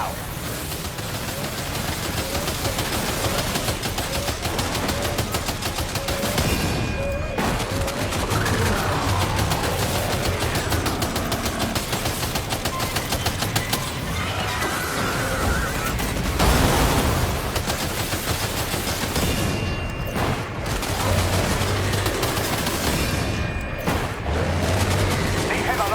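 Sustained gunfire in Death Stranding 2 fills the scene densely with steady loud crackling bursts and booms, layered with game music and voices talking throughout.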